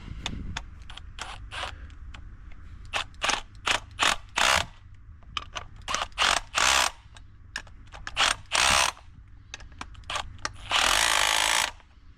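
Rapid ratcheting clicks in repeated bursts as bolts are tightened while installing a Munters 36-inch exhaust fan, loud and close with brief pauses between runs.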